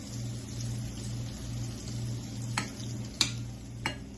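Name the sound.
malanga fritters frying in hot oil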